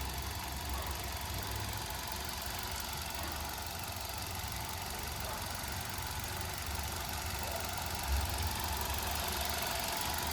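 A Hyundai i20 with a 1.2-litre petrol engine idles nearby, giving a steady, even rumble with a faint rhythmic tick that holds unchanged throughout.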